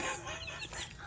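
Baby chicks being raised in a temperature-controlled brooder chirp and peep softly in a steady, overlapping chatter, fairly quiet and close, over a low background hum.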